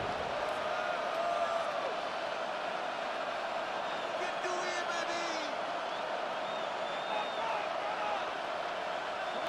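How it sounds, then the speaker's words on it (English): Football stadium crowd at an NFL game between the Green Bay Packers and Minnesota Vikings roars as one steady wash of noise late in the game, loud and continuous throughout with faint whistles and shouts, under an announcer's voice. "this crowd doing their best to make a lot of racket"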